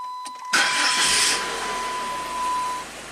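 A PT Cruiser engine cranks and catches around half a second in, then settles into a steady idle, with a continuous electronic tone running alongside.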